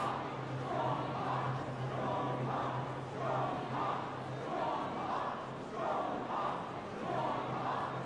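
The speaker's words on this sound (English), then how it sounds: "this is really unnerving to hear the crowd saying this." A courtroom crowd in The Great Ace Attorney Chronicles shouts and chants in rhythmic waves, rising and falling repeatedly over a low steady background hum.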